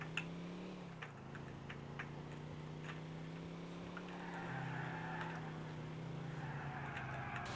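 A car drives in Grand Theft Auto IV, its engine holding a steady low hum that dips briefly then rises, with light ticking and clicking over a quiet game background.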